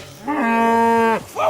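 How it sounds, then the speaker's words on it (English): A cow in Kingdom Come: Deliverance II lets out a single loud, close, sustained moo lasting about a second, and a second moo starts just as the first one ends. "But the cow is mine, and she's coming with me."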